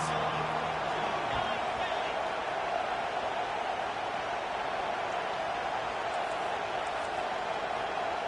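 A football stadium crowd roaring for the defense on third down, a steady dense wash of cheering and noise held at even loudness throughout, with a commentator's voice over the top.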